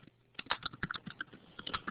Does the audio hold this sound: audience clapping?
no